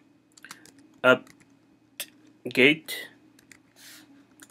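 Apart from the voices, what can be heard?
typing on a computer keyboard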